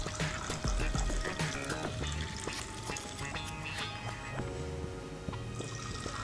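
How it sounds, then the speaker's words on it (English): Liquid poured from a jug into a hot coffee cocktail at a Melbourne cocktail bar, a steady trickling stream with scattered drips and clinks of glassware, close and clear. "And just pour that in evenly."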